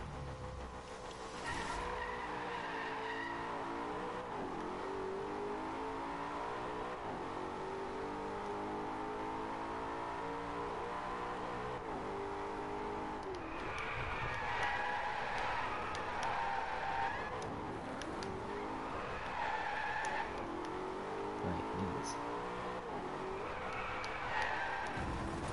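A car drifts in the racing game Driveclub, its engine revving and sliding continuously while tires squeal in repeated wavering bursts, loud and steady throughout.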